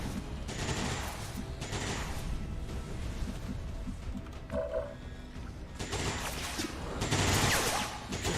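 Gunfire cracks out in XCOM 2: War of the Chosen in repeated bursts of shots at uneven intervals, fairly faint beneath the game's ambient rumble.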